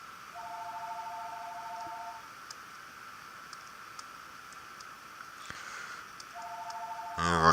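A home landline telephone rings twice, each a steady electronic trill separated by a long pause, moderately loud, followed by a short burst of noise at the end.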